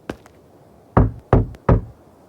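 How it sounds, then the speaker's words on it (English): Knocking on a wooden door in a point-and-click adventure game, three firm, evenly spaced knocks after a couple of faint taps, close and dry with nothing else heard. "I'm going to knock."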